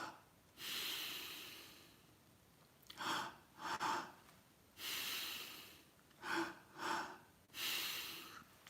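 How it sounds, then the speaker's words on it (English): A meditation breathing exercise: close, audible breaths repeat in a pattern of two short inhaling strokes through the mouth followed by one longer exhale, with quiet pauses between cycles. "we're gonna drop the mouth and inhale in 2 strokes and exhale in 1"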